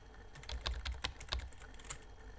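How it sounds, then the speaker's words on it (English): Quiet, uneven keyboard clicks from typing a chat message in the game Emily Is Away, a short burst of irregular keystrokes with no talk. "I type by pressing random keys, apparently."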